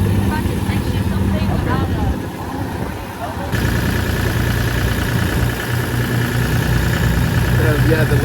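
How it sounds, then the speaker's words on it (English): The engine of a Lincoln Classic 2 welding machine idles in a steady, loud mechanical drone, dipping briefly and then picking up again, with someone talking over it. "Here's the machine. I'm about to hook up my leads to it and weld with it."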